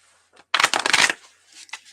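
A deck of Archangel Raphael healing oracle cards being shuffled close up, one brisk riffling burst of about half a second followed by a few softer card taps.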